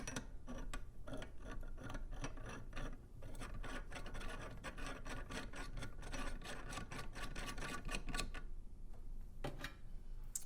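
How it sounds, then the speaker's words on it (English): Threaded standoffs being screwed into a bearing puller on a small Honda Z50R/XR50R/CRF50F engine, producing dense, close raspy metal-on-metal scraping and quick clicking, steady throughout with a short pause near the end and no talking. "Next, you want to thread in these standoffs."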